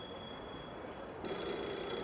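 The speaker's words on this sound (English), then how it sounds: "this phone started ringing" A cellphone in the video game Yakuza 0 rings with a quiet, steady electronic trill, faint and alone, with a slight step up in level partway through.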